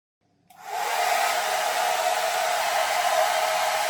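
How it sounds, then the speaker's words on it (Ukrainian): A Dreame Gleam hair dryer with a brushless motor switches on after a brief moment of quiet and runs steadily with a loud, even whirring roar close to the microphone. "Мій власний старий фен Philips з такою ж потужністю 1600 Вт працює набагато голосніше"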